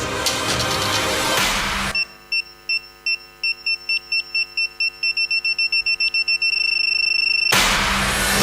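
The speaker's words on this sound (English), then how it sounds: "did you hear that beeping sound?" A series of short electronic beeps, about fifteen, speeding up and then running into one sustained tone, sounds alone in a quiet stretch between louder bursts of background noise at a conference opening ceremony.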